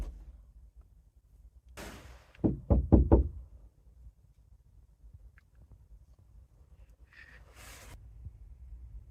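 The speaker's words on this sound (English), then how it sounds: "Someone was trying the van door handles as well." A quick burst of several sharp knocks at a van door in the middle of the night, loud and close in an otherwise quiet interior, with faint rattles from the door handles before and after.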